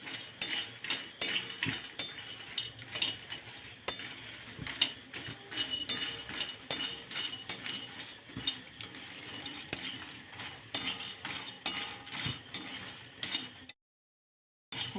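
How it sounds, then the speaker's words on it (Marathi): Makhana fox nuts dry roasting in a pan for homemade Bournvita powder, giving a steady stream of light clinking, rattling and popping as the puffs tumble and crackle, fairly close, with no talk, ending in a short silence. "बोनविटा पावडर करण्यासाठी मी इथे दोन वाटा मखाना घेतलेला आहे आणि आता याला मी छान भाजून घेते"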